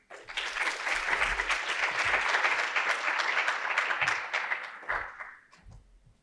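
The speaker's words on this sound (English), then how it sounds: "Let's give him a warm round of applause." Audience applause at RailsConf 2024, a Ruby and Rails programming conference, after a speaker's introduction: a dense wash of many hands clapping, loud and steady for several seconds, then thinning out and fading near the end.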